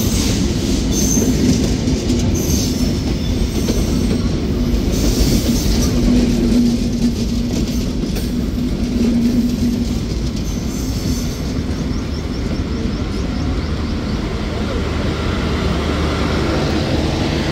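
The Benapole Express, CRRC coaches hauled by American 6600-series locomotive 6624, rumbles past with continuous wheel noise, faint squeals and clatter, close and steady throughout.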